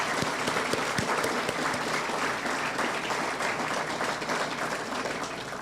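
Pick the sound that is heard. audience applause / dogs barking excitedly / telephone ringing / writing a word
audience applause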